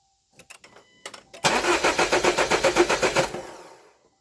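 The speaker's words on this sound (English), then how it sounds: "So in real time, I'm just going to bump the motor." A Jeep Compass engine is cranked over by the starter without firing, with a few short bumps first and then a steady rhythmic churn of around a dozen compression strokes lasting about two seconds. The sound is close and clear, with no talking.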